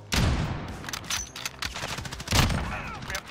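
Rapid bursts of sniper rifle fire in a Portuguese-language video game, loud close shots in two clusters with ringing tails.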